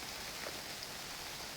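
Steady rain in the survival video game UnReal World, a faint continuous hiss of falling drops with no other sounds.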